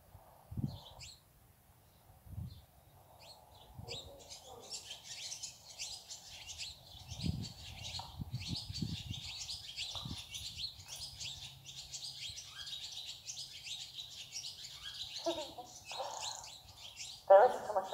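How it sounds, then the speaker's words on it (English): Barn swallows perched on a board at the end of a barn, chattering and twittering almost continuously at moderate distance, with quieter soft thumps and rustles and a few brief voices. "There's barn swallows. They sit on the board at the end of my barn and just talk to each other like crazy."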